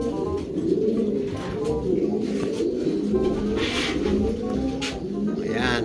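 Soft, repeated cooing from pigeons kept by a racing-pigeon keeper drifts along at close range, mingled with light chirps and someone talking nearby.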